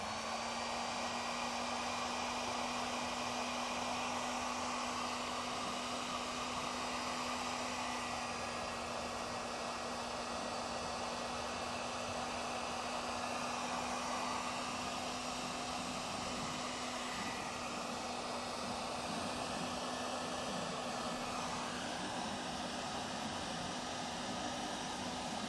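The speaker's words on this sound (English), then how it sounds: "So you just come back with the heat gun and shrink it down." A heat gun shrinks heat shrink tubing over wiring for a Roadmaster automatic battery disconnect, giving a loud, steady, continuous blowing hiss with a faint tonal hum beneath it that holds without a break.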